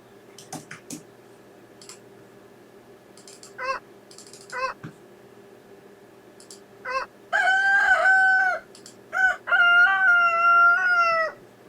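A rooster crows twice near the end, loud and close, after scattered clucks and small bird calls over a quiet, humming background.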